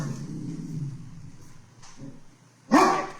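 A single sharp dog bark rings out near the end, loud and close, after a stretch of quiet low rumble.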